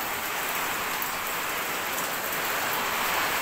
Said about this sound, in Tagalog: Umuulan sa labas.